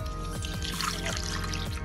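A tumbler of water pours into a cooking pot for a thuthuvalai kashayam spiced with turmeric, cumin and pepper, a brief, soft, bubbling trickle over a low background hum.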